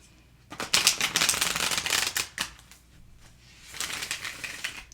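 Two bursts of crisp, rapid riffle shuffling of a slightly stiff, linen-finish oracle card deck, the first longer and louder, the second softer, with a brief pause between them.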